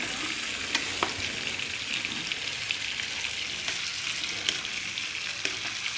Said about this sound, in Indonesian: Nah, kita aduk-aduk biar rata.